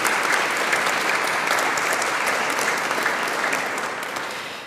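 Congregation applauding during a cantata service in the Martinikirche in Siegen, a dense, loud, continuous clapping throughout that gradually fades toward the end.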